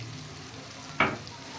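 Turmeric, whole dried coriander and cumin with salt frying in oil for a cauliflower chicken curry, a low steady sizzle with one sharp scrape of a spoon against the pot near the end.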